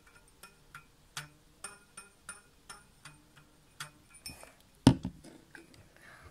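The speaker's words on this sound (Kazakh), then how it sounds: "Мен бүгін гитара сияқты бір аспапты жасадым." Rubber bands stretched over a container as a homemade guitar-like instrument are plucked one after another in a steady, even rhythm, giving short, soft twanging notes. One sharper, louder pluck comes near the end; no one talks.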